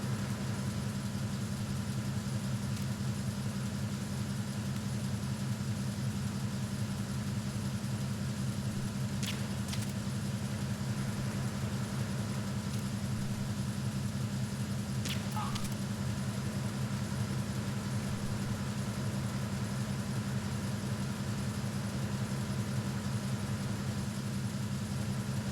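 Steady idling vehicle engine in Metal Gear Solid 2, a constant low drone humming on unchanged for the whole stretch, with a couple of faint clicks over it.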